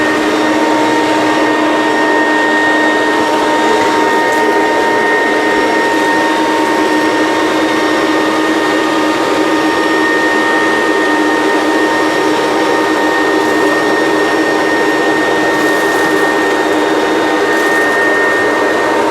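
A vacuum cleaner fitted with a hard floor tool runs loud and close, holding a steady motor whine with a constant airy roar the whole time and no voices.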